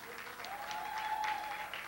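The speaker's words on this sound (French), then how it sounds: "qu'on applaudit" A crowd applauds a singer on stage, dense clapping at steady volume from a roomful of hands, with a faint sustained tone and some murmured voices under it.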